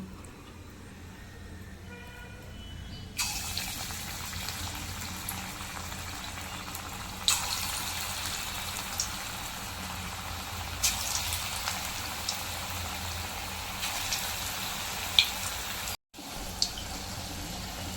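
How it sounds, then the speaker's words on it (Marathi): Palak and corn pakoda fritters dropped one by one into hot oil, a steady bubbling sizzle that swells in stages as more batter goes in, with a brief cut near the end. "आता आपण हे भजी एक एक तेलात सोडूया"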